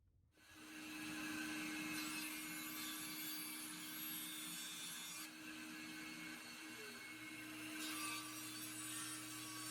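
A table saw with its blade tilted to 45 degrees runs steadily through wooden box frame sides, cutting them to length with mitered ends for a chess board; the loud, continuous whine carries on almost without a break and stands alone.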